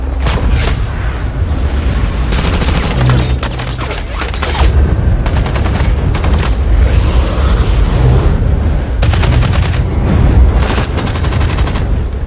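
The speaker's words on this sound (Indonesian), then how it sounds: "Dari situlah baku tembak antara pembunuh bayaran dan Ilsa terjadi" Loud, irregular volleys of gunfire in a film shootout crack out again and again over a low rumble, with short lulls between bursts.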